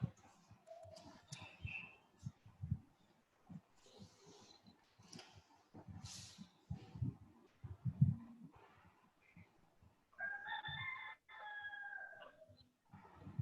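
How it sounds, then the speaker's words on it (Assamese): A rooster crows once near the end, a drawn-out call that rises clearly above faint, distant rustles and scattered soft knocks. The whole scene is quiet and low in level. "ক'ত মুৰ্গীৰ দুখন মাত"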